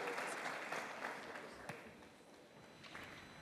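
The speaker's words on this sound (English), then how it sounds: "Just give him a nice round of applause before we get to our final session." Quiet, fairly distant round of audience applause at an energy industry conference keynote, scattered claps with some sharper hits, softly captured with a bit of talk mixed in.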